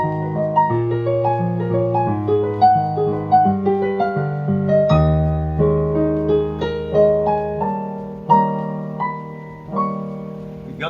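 Solo piano plays the closing four bars of section A1 of a piece, a mellow sequence of sustained chords and melodic notes at moderate volume with no talking.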